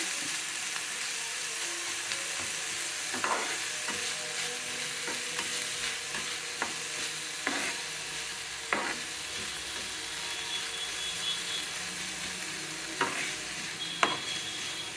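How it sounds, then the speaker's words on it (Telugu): Food fries in a pan with sprouts and salt, a steady close sizzle broken by intermittent scraping and knocking of a spatula stirring against the pan, moderately loud, no speech. "ఇప్పుడు ఇది కొద్దిసేపు ఫ్రై చేసుకుందాం."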